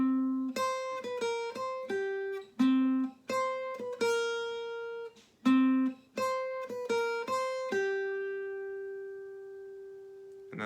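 Clean plucked guitar notes trace the opening section of the Foster's Home for Imaginary Friends theme, a bright single-note melody in quick phrases with short pauses, ending on one long ringing note that slowly fades.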